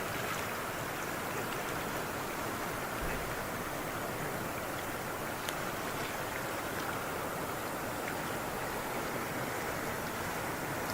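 River water pours in a steady sheet over the Pasrotiya and Kureda anicuts, a continuous broadband rushing roar that stays even and unbroken throughout.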